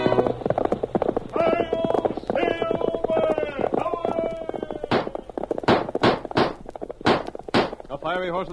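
Galloping horse hooves for a Lone Ranger radio drama, a rapid clip-clop run that follows a dramatic announcer's voice, the hoof beats loud and close with sharp, evenly spaced strikes.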